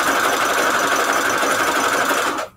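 A sewing machine runs steadily and close at a loud, even buzz while stitching paper for book page envelopes, then stops abruptly at the end; no one speaks.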